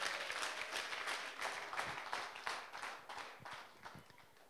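A church congregation claps during a sermon, scattered quiet hand claps in an uneven rhythm that fade slightly toward the end.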